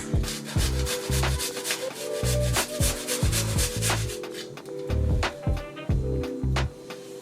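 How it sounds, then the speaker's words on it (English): A garlic clove is rubbed back and forth over a kitchen grater while cooking sweet and sour pork, producing close, repeated rasping strokes in an even rhythm with no speech. "Now it's time to grate a teaspoon of garlic, which to be honest, I'm just gonna grate 1 clove."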